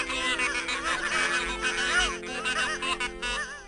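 A flock of geese honks in a dense chorus, overlapping calls rising and falling continuously and loudly, with a faint voice-like quality mixed in.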